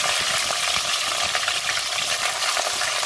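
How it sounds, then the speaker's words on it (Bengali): Cauliflower, beans and carrots fry in ghee in a pan, giving a steady, dense, close sizzle that holds at an even loudness throughout, with no voices. "এগুলো আমি হালকা করে ভেজে নেব।"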